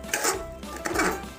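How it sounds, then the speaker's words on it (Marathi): Khoa and coconut burfi mixture stirred in a pan, two soft scraping strokes of a spoon against the pan, close and quiet. "हलक्या हाताने हलवत आपल्याला हे मिश्रण हे नंतर आपल्याला पूर्णपणे हलवत राहायचं आहे."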